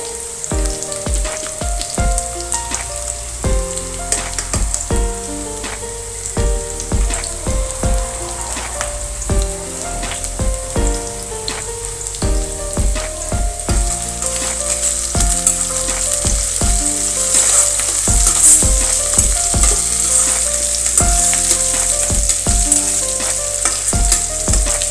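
Onions fry in ghee in a pan for Andhra-style gongura rice, giving a steady, loud sizzling hiss throughout, with music playing underneath.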